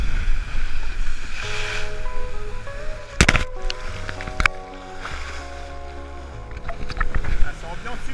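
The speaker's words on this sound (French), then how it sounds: "Le bateau à chaque fois il enfourne et ça fait mal là." A Mini Transat racing sailboat slams and rushes through waves, repeatedly nose-diving, with splashing surges, wind and creaking under occasional talk.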